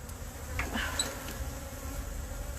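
Honey bees swarm around a beekeeper, giving a faint, continuous buzzing drone with a few brief louder passes of individual bees close by against quiet background hiss.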